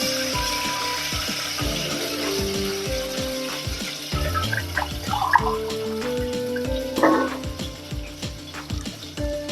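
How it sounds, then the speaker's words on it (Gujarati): A glass of water poured into a pan of cooking potato curry makes a short, splashy gush with a bubbling hiss. Steady background music plays throughout. "હવે 1 ગ્લાસ પાણી એમાં નાખી દઈશું."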